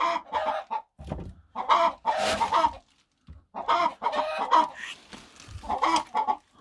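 Several chickens cluck and squawk in bursts, loud and close, with brief quiet gaps between the outbursts.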